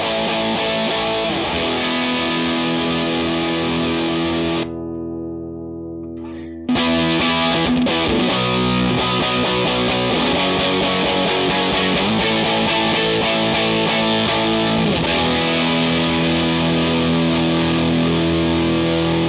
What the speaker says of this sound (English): We have two fabulous distortion boxes here from Bearfoot Effects, the Dyna Red Distortion 4-knob and 3-knob.